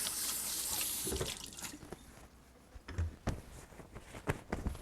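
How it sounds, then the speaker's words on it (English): Hands are washed under a running kitchen tap: a steady gush of water at first, then splashing and dripping bursts as the hands move under the stream, close by. "now I gotta wash my hands"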